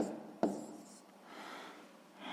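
Pen writing on paper while math work is jotted down, one sharp tap followed by faint, soft scratching strokes, quiet and close with no talking.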